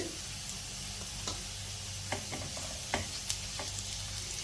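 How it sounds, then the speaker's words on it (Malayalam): Onions and cumin frying in a pan, a steady close sizzle throughout with occasional spatula scrapes and taps as the mix is stirred. "ഈ ഉള്ളിയൊക്കെ മൂത്ത് വരുമ്പോൾ ഞാൻ ജീരം ചേർത്ത് കൊടുക്കുന്നുണ്ട്"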